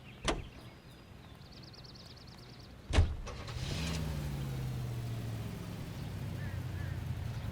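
A Cadillac V16 in the video game L.A. Noire: a sharp door thud, a second thud about three seconds in, then the engine starts and runs with a steady, close hum.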